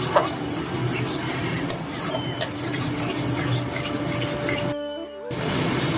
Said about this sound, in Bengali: এবারে মশলাটা ভালো করে কষতে হবে। ভালো করে কষে নিতে হবে।